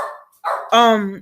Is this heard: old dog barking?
yes